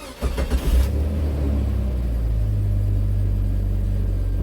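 A Jeep XJ with a 4.0 engine cranks briefly, then catches and settles into a steady, low rumbling idle, heard close with no talking.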